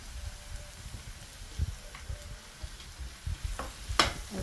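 Prawn noodle ingredients with curry leaves and green chillies stir-fry in a pan, making a soft sizzle under irregular scrapes and light clinks of a utensil, fairly quiet and close.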